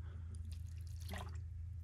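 Water pours onto compacted farmland soil in a soft outdoor trickle, rising briefly into a clearer splash near the middle, faint against a low steady background rumble.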